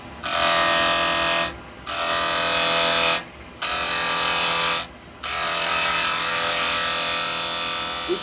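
A wood lathe spins while a gouge cuts the corner off a wood blank, a bright, steady whirring scrape in three long passes broken by short pauses.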